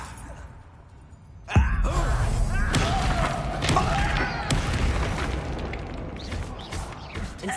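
Repulso spell blast in Hogwarts Legacy: a sharp, loud thump-like burst followed by sustained magical rumble and scattered impacts, no talk over it.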